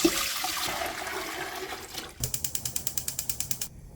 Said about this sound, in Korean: 냄비에 만들어 놓은 간장물을 붓고요